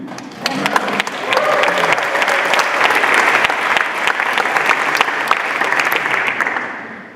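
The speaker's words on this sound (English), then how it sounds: "This is the moment to start applauding for their courage to be the first students of our academy." A conference audience breaks into sustained applause, loud and dense, clapping steadily for several seconds before easing slightly at the end.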